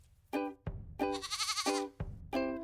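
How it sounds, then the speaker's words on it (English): A goat bleats several times up close, loud, wavering calls with short pauses between them, heard clearly with nothing else over them. "Last but not least, meet the goat. Goats go."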